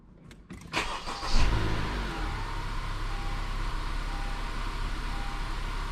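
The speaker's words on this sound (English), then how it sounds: "So I'm going to start up the vehicle." A 2015 Honda CR-V engine cranks briefly and catches with a loud surge, then settles into a steady, even idle.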